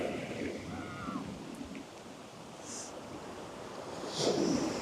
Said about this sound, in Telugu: రెండు సైడ్ నుంచి వస్తుంది వేవ్స్